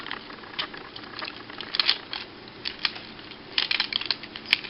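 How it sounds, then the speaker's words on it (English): Faint, sparse ratcheting clicks come from the hip joints of a Movie Voyager-class Ironhide action figure as the legs are moved, small dry ticks in short irregular clusters against quiet background. "Hips, faint ratchets"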